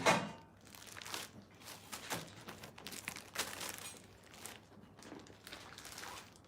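Stiff orange plastic tarp, six feet square with holes, being handled and shaken, giving repeated loud crinkling and rustling bursts at close range with no talking.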